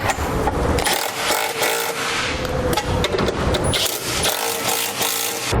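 Hand tools clank and scrape against metal bolts while snugging down a hidden trailer hitch receiver on a 2016 vehicle, with dense, continuous rattling and ratcheting close by and no talk.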